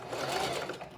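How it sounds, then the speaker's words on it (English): A sewing machine runs in one steady, continuous stitching burst, close and fairly loud, with no talk over it. "Just keep sewing."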